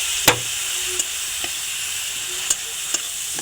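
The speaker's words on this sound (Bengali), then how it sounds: "মশলাটা ততক্ষণ কষাতে হবে ততক্ষণ না তেল ছেড়ে দেয়।" Tomato masala for a tilapia curry sizzles in oil in a pan, a steady frying hiss broken by a few sharp clinks and scrapes of stirring, with no talk.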